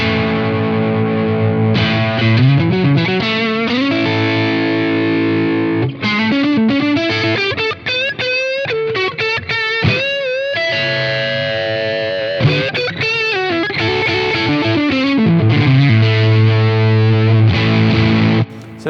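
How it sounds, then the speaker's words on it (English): Overdriven electric guitar played through the input of a Blackstar Polar 2 audio interface, pushed hard for an amp-like, boosted crunch; loud, continuous chords and riffs with sustained, gritty distortion and no talking. "that actually sounds like a guitar amp, just with a boost in front of it"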